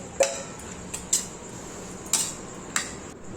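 A few sharp metallic clinks and clatters as chopped bottle gourd is added to a pan, spaced about a second apart, with a quiet background between them.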